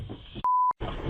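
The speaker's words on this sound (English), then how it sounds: "That was my phone." A mobile phone gives a single clear electronic beep, a steady tone lasting about a third of a second that cuts through a low background rumble.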